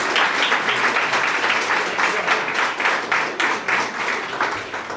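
An audience applauding at a Pride celebration event, a dense, steady wash of many hands clapping for the full few seconds, loud and close, with no one speaking over it.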